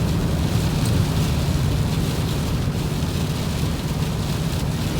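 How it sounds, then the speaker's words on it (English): Steady, dense hiss of heavy rain falling outside, a continuous loud wash with a low rumbling undertone and no voices. "You can only film so much rain outside."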